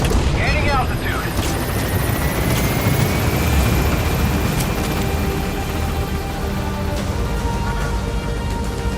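In Metal Gear Solid V, an extraction helicopter's rotor roars loudly and steadily throughout, mixed with rumbling booms and game effects, while a voice speaks over it.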